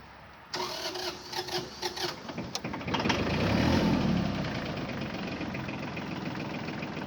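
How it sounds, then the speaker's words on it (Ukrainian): A small diesel engine of an Iseki TK25 mini tractor cranks and catches after glow plug preheating, then settles into a steady knocking idle close by. "Щеплення, свіча розжарювання і заводимо"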